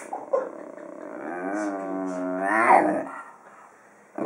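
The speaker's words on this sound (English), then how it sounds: "No barking, Zippo" A low, rumbling dog growl swells for a couple of seconds and peaks before fading, fairly quiet and close, with no voices.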